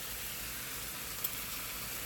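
Rice freshly cooked and splashed with soy sauce sizzles in a hot pan during a chicken and vegetable stir-fry, a steady, even hiss with no talking.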